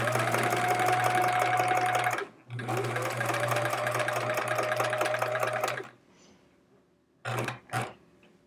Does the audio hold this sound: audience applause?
no